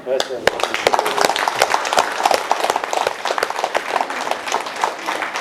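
Wedding guests clapping for the newly married couple, a loose, crackling round of applause from a modest gathering. The claps are individually audible and continue steadily at close range throughout.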